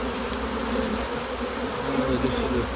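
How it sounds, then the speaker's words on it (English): A honeybee swarm crawling into a box placed on the ground, a steady close buzzing drone of many bees with someone talking briefly over it. "And now those bees will start walking right in."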